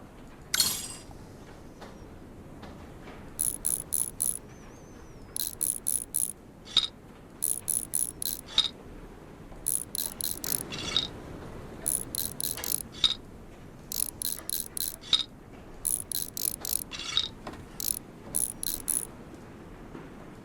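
Reassembling electric motor parts in the video game Train Mechanic Simulator, with repeated short bursts of quick ratcheting clicks and metallic clinks, evenly spaced and crisp over quiet background.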